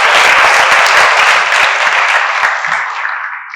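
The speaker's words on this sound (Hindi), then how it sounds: "एक तालियां हो जाए थोड़ा" Applause from an event audience, a loud burst of many hands clapping that starts at full strength and gradually thins and fades over a few seconds.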